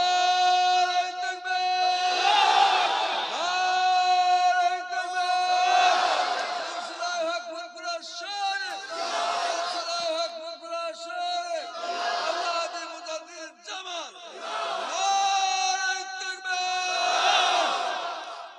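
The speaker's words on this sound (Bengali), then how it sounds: "একটা হাত তুলে, দুটো হাত তুলে তাকবীর মারে" Large crowd at a religious gathering shouting takbir in unison, raising hands, in several loud sustained chant bursts separated by brief lulls, voices layered and echoing.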